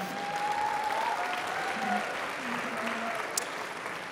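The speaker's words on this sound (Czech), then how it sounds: "Potlesk pro dívky" Audience applause for the ten finalists of the Miss Czech Republic 2022 final, a steady moderate clatter of clapping that holds for the whole stretch, with faint speech tones faintly audible beneath.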